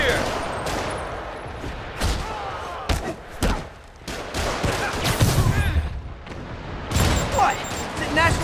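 Rocket fire and explosions in the Spider-Man Remastered video game on PS5, a rapid run of sharp blasts, thuds and booms, with voices talking in between.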